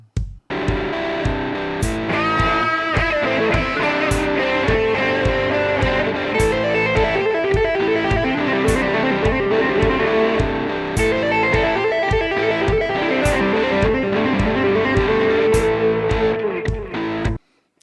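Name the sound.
electric guitar riff with distortion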